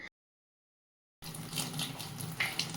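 A household tap runs with a weak, thin flow, a soft steady hiss of trickling water after a brief silence, faint and alone.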